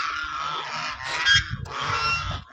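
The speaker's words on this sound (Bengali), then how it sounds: "এই যে হাঁস দেখেন" Ducks on a farm honk and quack in a loud nasal chorus, two close bursts of overlapping calls with a brief pause between them.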